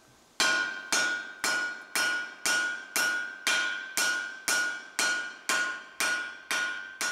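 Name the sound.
blacksmith hammering hot steel while forging an axe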